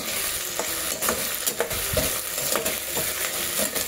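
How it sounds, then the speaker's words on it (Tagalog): Potatoes sautéing in a pan sizzle steadily up close while a utensil stirs and scrapes them in irregular taps and shuffles, with no talk. "Gisa lang natin ng konti bago tayo maglagay ng asin. Para lumambot ng konti yung ating patatas."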